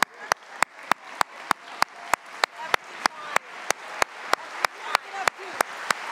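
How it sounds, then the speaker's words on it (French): A standing audience at a ministerial fireside chat gala applauds two women, with sharp, evenly spaced claps falling into a steady rhythm over a broad crowd wash, close and fairly loud for about six seconds. "je vous demanderai de vous lever pour applaudir deux femmes extraordinaires"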